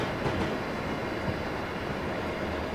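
An SD70 locomotive pulls a long train past in Train Simulator 2019, a close, steady rumble of wheels and rolling stock with faint rhythmic clatter throughout.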